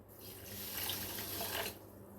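Two cups of water are poured into a pan for sugar syrup, a faint, continuous splashing stream lasting under two seconds that trails off into quiet.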